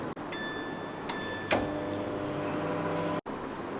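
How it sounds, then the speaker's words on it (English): A microwave oven heating mac and cheese runs with a steady electrical hum and faint tones, broken by a couple of soft clicks. "And I'll micro it for 2 to 3 minutes."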